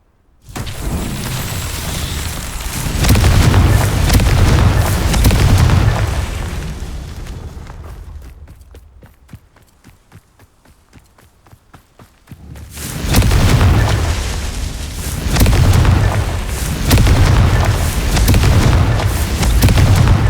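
Confringo blasting spells explode in Hogwarts Legacy as long, loud, heavy booming rumbles, broken by a quieter stretch of scattered crackles before the blasts roar again.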